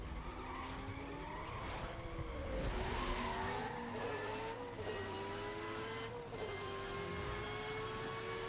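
Race cars in a video game drag race skid with long, wavering tire squeals over steady engine roar, continuous and loud throughout.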